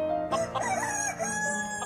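A rooster crows close and loud, a long wavering call with a rising then falling contour, standing alone without talk.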